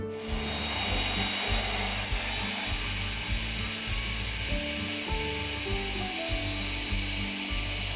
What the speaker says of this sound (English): you want to blend all the ingredients together for a couple minutes